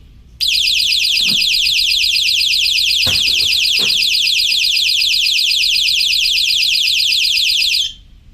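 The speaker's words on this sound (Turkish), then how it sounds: "yapmış olduğumuz alarma yaklaşıyorum arkadaşlar" A homemade proximity alarm blares a loud, shrill, continuous warbling electronic tone for about seven seconds, starting abruptly and then cutting off, with a few faint knocks in the background.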